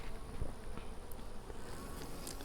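Honeybees buzz around an open hive during a gentle frame inspection, a dense hum of many insects close by. Occasional soft knocks and handling noises sound over the buzzing, and no one speaks.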